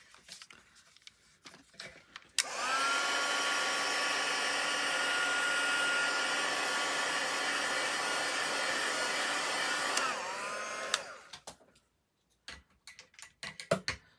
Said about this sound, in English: I'm actually going to grab my heat tool, give it a quick little blast.